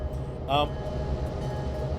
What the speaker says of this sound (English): So this is the EMD F7.